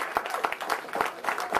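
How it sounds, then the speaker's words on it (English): A brief burst of audience applause for a speaker at a lecture, made of close, distinct hand claps from a modest crowd in an uneven rhythm. "Let's get our brother a round of applause"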